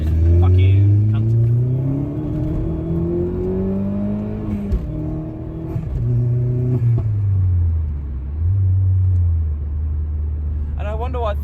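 A car is driven hard through a junction, its engine climbing through the revs in rising sweeps, shifting, then roaring again, loud and close throughout with someone talking over it.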